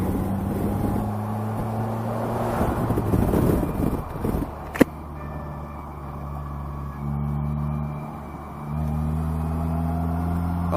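Polaris trike with a four-cylinder engine driving on the road, a steady hum with shifting pitch under heavy wind rush, with a brief sharp click partway through.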